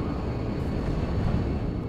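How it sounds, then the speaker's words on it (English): Recon helicopter in the real-time strategy game WARNO, heard as a steady, dense low rotor and engine drone that holds at an even level throughout. "Oh, a recon helicopter."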